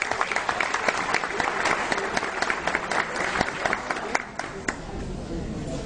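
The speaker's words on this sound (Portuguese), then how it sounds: "uma salva de palmas para eles também" Sustained applause from an audience at a religious education conference, dense steady clapping filling the room with the crowd's murmur beneath, lasting throughout.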